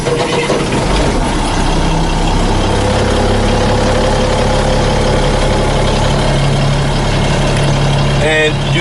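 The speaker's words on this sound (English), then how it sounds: "now you're going to build the air pressure back up by turning the vehicle on" A truck engine runs steadily after starting to build air pressure, a loud close low rumble with a constant hum and no talk over it.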